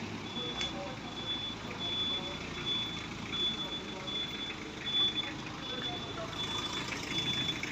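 A truck's reversing alarm beeps steadily in a continuous chain of tones over the low rumble of vehicles arriving outdoors, heard from a moderate distance.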